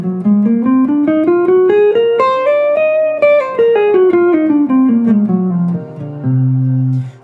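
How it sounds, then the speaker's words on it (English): A jazz Locrian natural 9 scale, the sixth mode of melodic minor, is played cleanly one note at a time. It climbs steadily to a peak and comes back down, then ends on a low sustained tone, with no talking. "there is a very magical scale from the melodic minor, which is the 6th mode of melodic minor, and that is Locrian natural 9"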